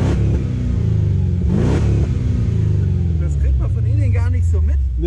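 A Mercedes E430 engine revs hard and climbs in pitch, loud and sustained, with a rising and falling growl as it accelerates nearby; voices talk over it.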